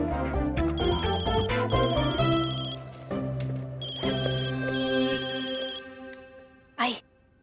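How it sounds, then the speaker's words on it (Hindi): A mobile phone ringtone plays in a Hindi TV drama scene: a steady, melodic electronic tune that fills the clip at moderate volume, with a short louder burst near the end. "मेरा फोन बज रहा है।"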